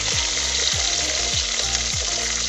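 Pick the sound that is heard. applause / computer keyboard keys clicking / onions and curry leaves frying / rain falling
onions and curry leaves frying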